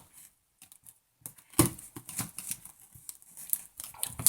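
An old cardboard parcel wrapped in four layers of tape is pried and torn open nearby, with sharp rustles, scrapes and crackling bursts after a quiet start.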